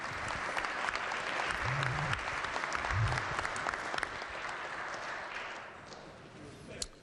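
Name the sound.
round of applause in legislative chamber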